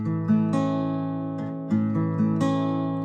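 Acoustic guitar strumming chords with a flamenco-style technique, about five ringing strummed chords in a slow, even rhythm, close and fairly loud with no talking.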